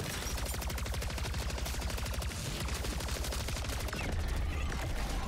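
Laser weapons firing nonstop in MW3 Zombies, a loud, dense stream of rapid bursts that stays constant and close throughout.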